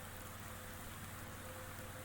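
Steady rain in the Fallout 4 video game, a constant dense hiss of falling drops with a faint low hum underneath, even and unbroken throughout.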